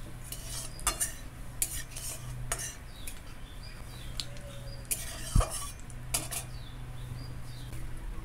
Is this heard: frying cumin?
yes